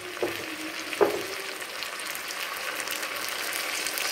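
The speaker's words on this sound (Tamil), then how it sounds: "ஸ்டவ்வை ஃபுல்லாக வச்சுக்கலாம் நல்லா கொதிக்கிற வரைக்கும்." Tamarind water with ginger heating in a pan on a stove at full flame gives a soft, continuous bubbling sizzle, with a couple of brief clinks near the start.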